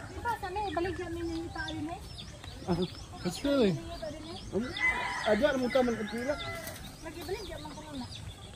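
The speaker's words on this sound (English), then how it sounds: "Look at all the chickens in the tree." Chickens perched in a tree among coconut palms in the Philippines cluck and call in scattered bursts while people talk close by throughout.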